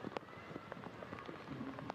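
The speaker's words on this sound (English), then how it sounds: "Meanwhile, the rain unrelenting." Steady rain falling over a stadium during a women's professional football match, Louisville against North Carolina, a soft constant patter with scattered drop-like ticks at low level.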